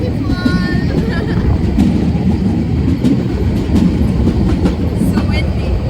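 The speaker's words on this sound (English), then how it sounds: "this train is different from Berlin." A train running on the Brocken railway, a steady loud rumble of wheels and carriage with faint squeals and clicks throughout, heard from on board as people talk at times.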